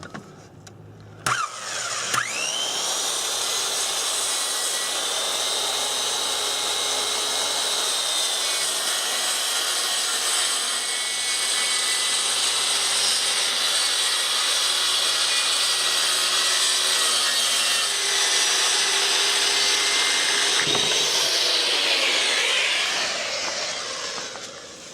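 A wood strip for trailer jack blocks is being sawn in one long, loud, steady cut lasting about twenty seconds, starting abruptly and winding down at the end.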